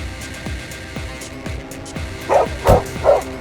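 A dog barks repeatedly at close range, sharp yips in a loose rhythm that grow louder toward the end, with faint background noise.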